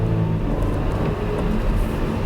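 A 2018 Audi A5 Sportback accelerates, heard from inside the cabin as a steady, loud engine and road roar that holds continuously from start to finish.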